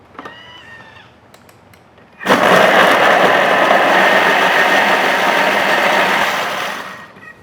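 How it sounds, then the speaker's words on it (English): A Thermomix starts up after a few quiet clicks and blends shallots and belachan into a paste, giving a loud, steady motor whir that holds for about five seconds and then winds down. "You want to make sure the shallots are completely blended and that the belachan is blended also into the mixture"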